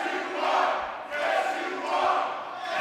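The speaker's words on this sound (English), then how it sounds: "And now the crowd really starting to get into it here." A crowd at a live professional wrestling show cheers and roars in rising swells, loud and fairly near, with several surges that dip and climb again.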